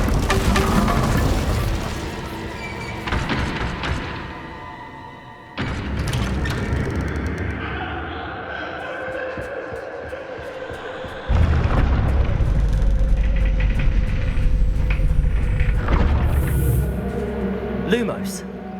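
An Incendio fire spell is cast in Hogwarts Legacy, giving booming bursts among rumbling game effects. A voice is heard over the sounds.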